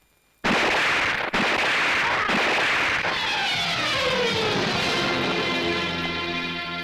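A sharp, loud pistol gunshot with live rounds cracks out in a film scene, followed by a second bang and a long ringing echo that slowly fades.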